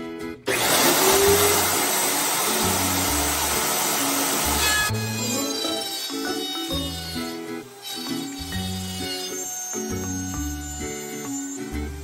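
Router cutting wood pieces for cabinet doors, a loud high-pitched motor whine that bites into the wood, then a lower running drone as the cut continues, with tonal shifts as the pieces are fed through, close and alone.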